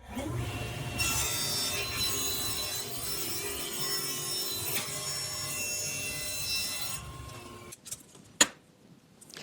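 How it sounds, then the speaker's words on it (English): Power saw cutting a straight edge on wood pieces for Christmas crafts, a steady whining buzz held for about seven seconds, then it winds down and a sharp knock follows, with no talking. "I'm gonna cut just one straight edge on both of these first"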